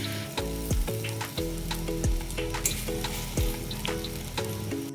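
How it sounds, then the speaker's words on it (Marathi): Sabudana khichdi stirred in a pan after its lid is lifted, with a soft continuous sizzle, spoon scrapes and light clinks against the pan, close up, while tonal background music plays throughout and no one speaks. "आता आपण झाकण काढून याला व्यवस्थित परत हलवून घेऊ."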